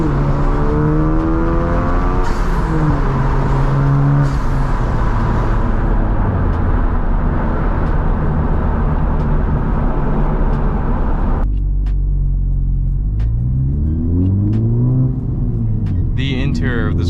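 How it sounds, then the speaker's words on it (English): A modified Honda Civic FL5 Type R exhaust revs loudly and close, engine pitch climbing and falling through repeated sweeps, then dropping sharply to a lower rumble before rising again. "get some exhaust sound here."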